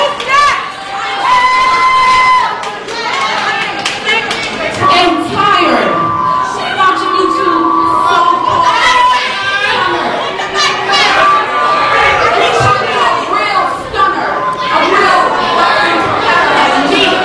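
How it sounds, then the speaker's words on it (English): At a women's wrestling match, the crowd roars and children scream and shout loudly and continuously, with excited chatter and cheering swelling and easing throughout. "Who's screaming like this?"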